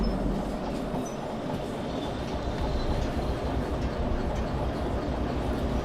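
A diesel locomotive shunting in the video game Derail Valley gives a steady, loud rumble of rail noise with low engine drone and rolling wheel texture, continuous and close with no talk.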